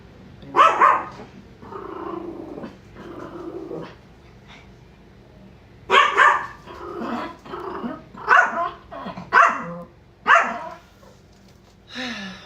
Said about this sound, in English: he's just going to bark at the lawnmower that's 10 houses down